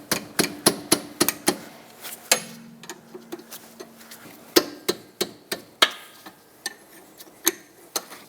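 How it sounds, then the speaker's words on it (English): Sharp metallic clicks of a wrench working loose 14mm rear brake caliper slider bolts on a 2014-2019 Toyota Highlander ring out in uneven bursts of taps, close and clear against a quiet background. "Use a wrench and break them free."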